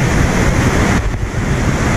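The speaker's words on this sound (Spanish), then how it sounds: "La cascada me acaba de pegar, dar una golpiza" Water from the Tingo waterfall in Cayambe crashes down steadily, very loud and close, as a dense, roaring wash of water with heavy wind-like buffeting on the microphone.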